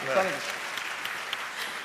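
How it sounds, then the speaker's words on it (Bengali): A studio audience at a cooking show applauds in a brief, fairly faint patter of clapping, with a voice briefly heard at the start. "সবাই থাকেন, আর একটু কষ্ট করে হাততালি দেন।"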